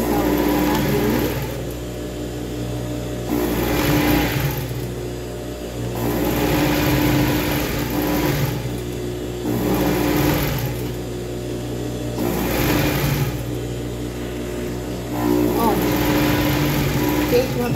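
Sewing machine stitching a hem on a small child's dress, a loud motor whir in repeated bursts separated by short pauses, with no talk over it.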